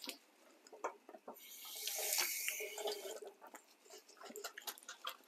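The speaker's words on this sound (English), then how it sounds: "so wash your lettuce" Lettuce being washed under a running kitchen tap: a steady rush of water swells in the middle, surrounded by light splashes and drips, fairly quiet and close, with no talk.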